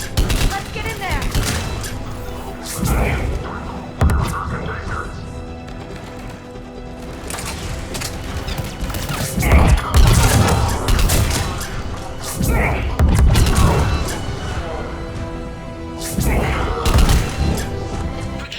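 Heavy firefight in Mass Effect 3, with repeated bursts of gunfire and booming impacts coming in clusters over a busy battle bed, loud and close, with voices talking over parts of it.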